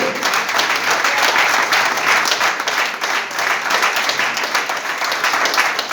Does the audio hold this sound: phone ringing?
no